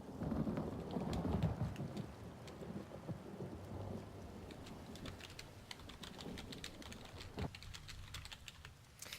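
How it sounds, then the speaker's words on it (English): Thunderstorm with rain in the ESO video game: a steady hiss of rainfall with low rolling thunder, strongest at first, and a sharp crack partway through, with no voices. "the lightning is happening in-game"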